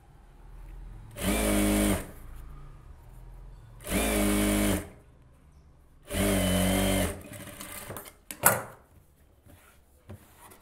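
Sewing machine stitching a silk cotton saree blouse in three steady bursts of about a second each, separated by pauses, followed by a few small clicks and handling sounds, close and clear with no talking.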